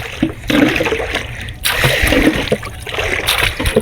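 Water splashing as people bathe and swim in a river on a Friday, irregular bursts of close splashes and sloshing with short pauses between them.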